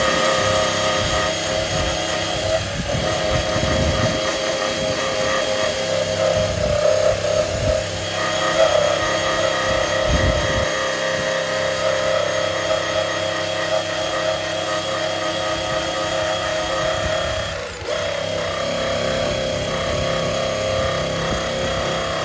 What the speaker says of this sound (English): So let me grind through some of that.